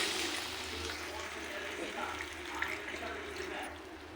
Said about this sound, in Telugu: ఇప్పుడు మనం గ్రేవీకి సరిపడా వాటర్ యాడ్ చేసుకోవాలి.